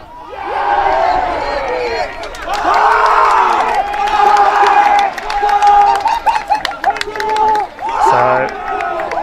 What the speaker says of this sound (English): So the Aussies in the crowd still vocal despite the big score line